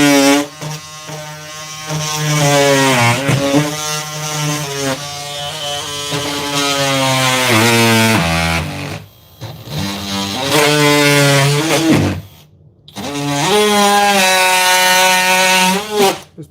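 A power saw with a very dull blade cuts into a home wall near a stud. Its loud, whining motor tone dips and rises in pitch under load, with a few brief pauses between cuts.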